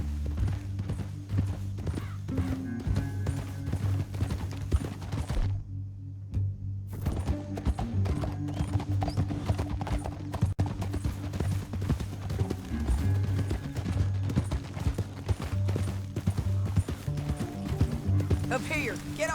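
Steady clip-clop of horse hooves at a walking pace in Red Dead Redemption 2, continuous and fairly close, with faint voices mixed in.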